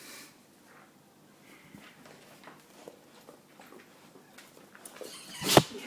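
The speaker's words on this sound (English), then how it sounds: "Poor sneezy doggy." A dog's sneeze bursts out sharply near the end, loud and close, after several seconds of quiet snuffling, shuffling and small movement noises.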